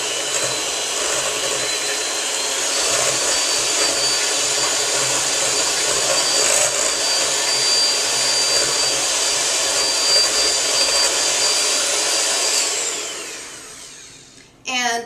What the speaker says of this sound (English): I'm just going to take my hand mixer again and blend it up just until it's been mixed through